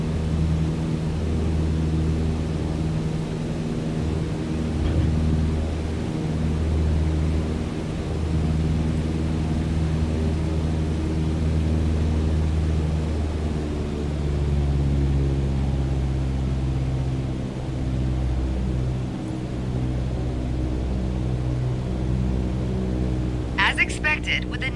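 A propeller aircraft engine drones steadily in flight in Microsoft Flight Simulator 2020, a continuous low hum with the RPM being reduced, running under an instructor's speech throughout.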